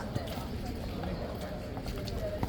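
Horses of the King's Guard, being prepared for the Elizabeth Cup, clip-clop on hard ground nearby in an uneven rhythm while people talk over them.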